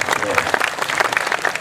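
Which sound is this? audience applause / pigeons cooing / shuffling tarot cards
audience applause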